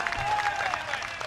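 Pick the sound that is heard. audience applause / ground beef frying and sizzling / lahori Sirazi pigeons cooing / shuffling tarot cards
audience applause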